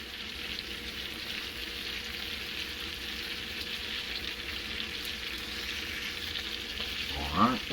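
Minced garlic frying in a pan for shrimp scampi gives a soft, steady sizzle throughout, with a brief clink of utensil against the pan near the end and no speech.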